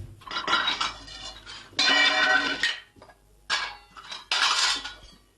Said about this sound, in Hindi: तुम चाय बना रही हो या बर्तन तोड़ने की प्रैक्टिस कर रही हो?